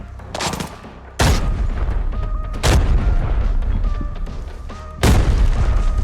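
Heavy booming blasts in Arena Breakout, including a grenade explosion: several loud, close detonations in sequence with ringing tails, separated by brief quieter stretches.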